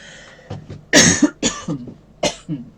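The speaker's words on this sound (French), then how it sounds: "Eh ben, je tousse." A series of several dry coughs, close and loud, coming in uneven bursts over a few seconds with brief pauses between them.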